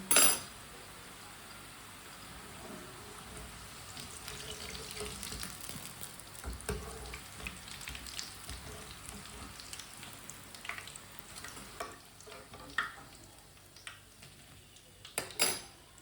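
Pakoras in very hot oil give off a faint, continuous sizzling hiss, broken by occasional utensil clinks and a few sharper knocks near the start and end.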